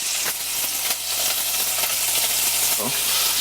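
Food sizzles and spits in an excess of hot cooking oil, a close, steady hissing crackle with occasional sharp pops and a few clinks of utensils, with faint room hum underneath.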